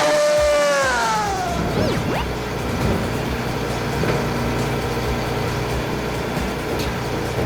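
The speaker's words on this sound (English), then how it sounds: "Garbage truck, a truck that collects trash from the streets." Garbage truck engine running at a low idle with a steady diesel rumble, close and moderately loud, with a falling whine at the start and a few faint squeaks over the drone.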